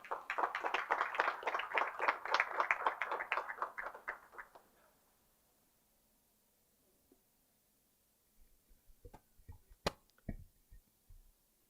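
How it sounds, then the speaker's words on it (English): An audience at an HR meet gives a short round of hand clapping for a speaker, rhythmic and fairly close, fading out after about four seconds, followed by scattered faint knocks and taps. "So, please give a big round of applause for Mr. Anil Bhosle, sir."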